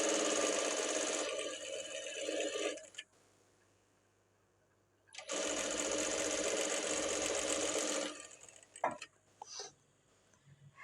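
Stitching a blouse piece, a sewing machine whirs loudly in two sustained runs of about three seconds each, separated by a quiet pause and followed by a few light clicks.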